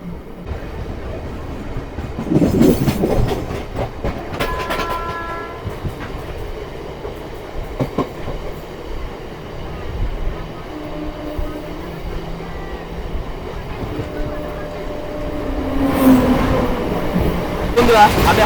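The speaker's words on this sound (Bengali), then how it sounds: "11:40 আমার ট্রেন ছেড়ে দিল সাঁইথিয়া জংশন রেলওয়ে স্টেশন থেকে" Barddhaman–Rampurhat MEMU local passenger train leaving Saithia Junction, heard from inside as a steady rumble with wheel clatter and a brief horn near the end, while quiet voices carry on in the background.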